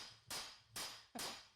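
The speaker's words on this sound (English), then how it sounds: "So the more you hammer it, the worse it gets." Three sharp metallic hammer strikes on stainless steel land about half a second apart, each ringing bright and then fading, with no voices.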